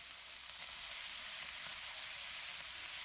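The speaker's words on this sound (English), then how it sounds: "Allow that to cook down" Ham, green peppers and onions cook down in a pan over low heat, giving a steady, even sizzle and hiss that holds constant throughout, with no voices.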